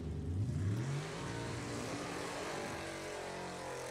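A dragster and a Camaro launch side by side at a drag race, engines roaring loudly with a rising rev at the start, then settling into a sustained, slightly distant drone.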